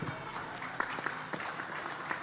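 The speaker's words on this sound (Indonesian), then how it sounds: "Tepuk tangan." Audience applause at a closing ceremony talk show with the governor of West Java, a scattered patter of clapping with a few sharper claps, fairly quiet and distant, over a faint room murmur.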